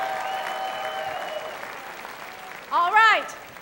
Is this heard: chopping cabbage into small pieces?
no